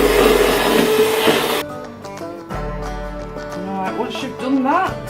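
An electric mixer whirs loudly through biscuit batter of milk, butter, sugar, egg and vanilla essence for about a second and a half, then cuts off abruptly and a voice talks.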